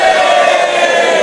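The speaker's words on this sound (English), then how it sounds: "let's go out with a cheer" A group of people at a summit gathering letting out a loud, sustained cheer, a dense wash of many voices held steady for about a second.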